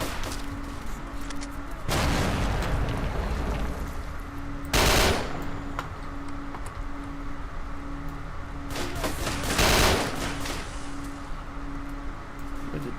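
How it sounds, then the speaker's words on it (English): Gunfire from several shooters in S.T.A.L.K.E.R. Shadow of Chernobyl, with bursts and sustained fire across the clip and heavier, louder volleys around the middle and near the end, over a steady low game hum. "Oh, there's quite a few people shooting at me."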